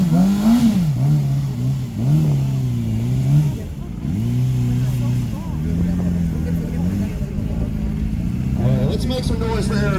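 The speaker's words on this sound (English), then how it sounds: "this is a bike capable of doing 160 miles an hour." A motorcycle engine revs up and down repeatedly at a car show, its pitch rising and falling in waves, with crowd noise and voices mixed in throughout.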